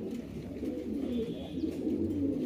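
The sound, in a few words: Syrian Dewlap pigeon cooing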